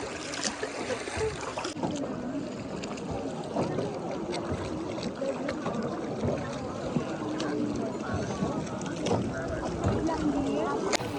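A motorboat's engine drones steadily over rushing river water and wind in Ninh Binh, Vietnam, loud and continuous throughout, with brief voices occasionally under the noise.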